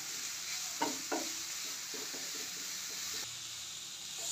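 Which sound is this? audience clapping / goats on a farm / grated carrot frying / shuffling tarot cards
grated carrot frying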